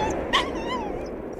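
A dog gives a brief high whimper or yip close by, one short whine over steady background noise.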